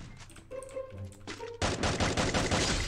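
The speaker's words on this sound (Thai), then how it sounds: "มันยิงกันอยู่มันยิงกันอยู" Automatic gunfire in a Free Fire battle royale match, a dense sustained burst of rapid shots that starts abruptly and keeps firing loud and close, with game sounds before it.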